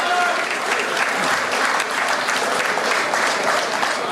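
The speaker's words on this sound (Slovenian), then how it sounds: "prosim, en aplavz za njega." Sustained audience applause from an outdoor crowd at a vintage tractor show in Jable, Slovenia, with dense, even clapping throughout and a faint voice underneath.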